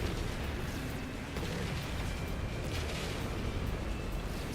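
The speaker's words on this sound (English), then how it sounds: "Oh, they shot torpedoes?" Torpedoes fired in a space battle in No Man's Sky rumble as a dense, continuous roar of explosions and booming blasts, loud and steady throughout without a clear break.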